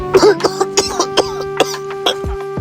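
A person coughs repeatedly in a rapid series of short, harsh bursts, close up, with a steady hum in the background.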